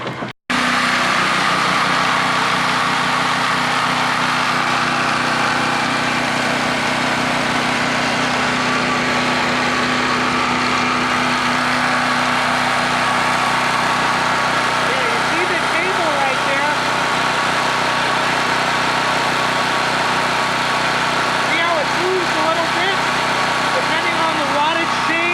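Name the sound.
portable generator engine running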